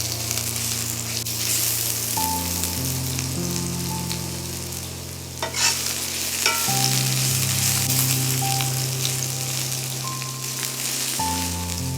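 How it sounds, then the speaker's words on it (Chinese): Scallion whites and ginger shreds hitting hot oil in a wok give a loud, steady sizzle and crackle, with occasional stirring scrapes under a constant tonal background hum, no voices. "把锅烧热，加油， 加葱白和姜丝，"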